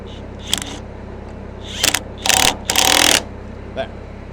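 A few short mechanical bursts of a bolt being tightened on the Bob-Tach pivot pin of a Bobcat loader, with one brief click, a pair of longer grinding pulses and a final faint tick, fairly close over a low steady hum.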